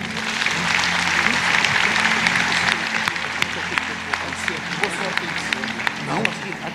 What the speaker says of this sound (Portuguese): vamos receber com uma calorosa salva de palmas